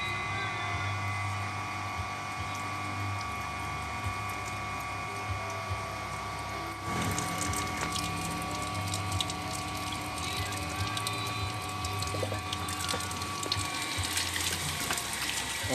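A Sanyo electric water pump runs with a steady motor hum and whining tones, joined partway through by the rush of water starting to flow, with faint voices in the background.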